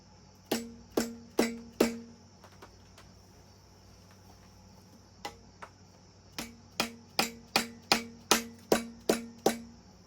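A rubber mallet taps parts into place on the block during an engine rebuild of a Subaru EJ25 for a 2007 STI. Crisp, close knocks come in a run of four, then two faint ones, then a quick series of about eight.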